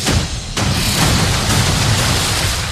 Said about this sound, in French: je t'ai dit aucune explosion.